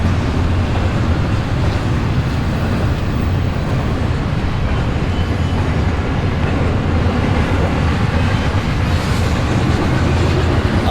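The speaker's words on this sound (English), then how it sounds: "Oh, this is the end, the last wagon. So I would say this was a baby train." A short freight train of rail wagons rolls past in the desert near Bombay Beach, California, a steady loud rumble and rattle of wheels on track that holds constant throughout.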